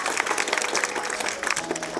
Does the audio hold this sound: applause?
yes